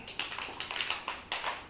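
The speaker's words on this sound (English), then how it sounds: "Clap for Devashree," A class of young children claps together for a classmate in a school lesson, a short scattered burst of light hand claps, fairly faint and close.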